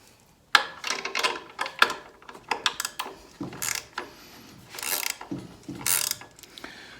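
Wrench ratcheting while tightening hardware on a worktable sawmill build, a series of close, irregular clicking and ratchet bursts with short pauses between strokes, alone without talk.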